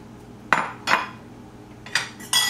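Cheese and egg mixture for pasta pizza being beaten in a bowl, four sharp separate clinks and scrapes of utensil against the bowl over a quiet background, no talk.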